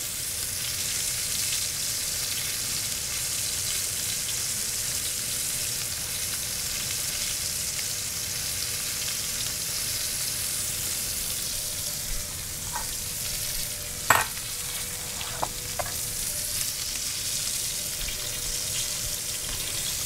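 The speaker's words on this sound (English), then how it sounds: "after I've seared both sides, I like to stand them up and get that fat nice and crispy" Steady, loud sizzling crackle of steak fat searing in a hot pan, the steaks stood on edge, continuous throughout, with a couple of brief clinks near the end.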